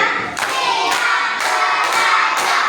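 A class of students claps together in a rhythmic series of bursts, a counted pattern of several sharp group claps in a room, fairly loud and without talk.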